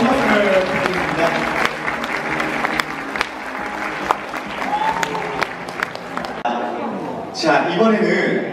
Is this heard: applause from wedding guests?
yes